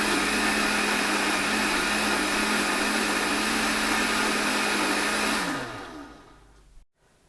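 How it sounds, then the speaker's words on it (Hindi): A loud, steady motor whir of a blender blending garlic, ginger and onion into paste, running continuously for several seconds, then winding down and stopping. "अब हम इसको निकाल लेंगे और ब्लेंडर में डालकर इसको ब्लेंड कर लेंगे।"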